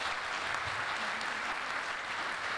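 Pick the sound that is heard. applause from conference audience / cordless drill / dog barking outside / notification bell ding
applause from conference audience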